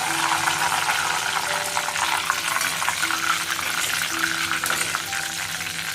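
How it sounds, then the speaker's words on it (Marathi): Green chillies fry in hot oil with a dense, continuous sizzle and bubbling crackle. Steady low hums run underneath for the whole stretch, with no talking. "आता मिरची फ्राय करून घेऊया आपण आता मी मिरच्या घेणार आहे"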